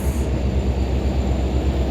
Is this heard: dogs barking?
no